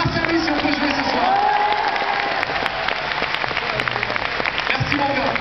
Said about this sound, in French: On l'applaudit vraiment, c'est grâce à lui si on peut jouer ce soir.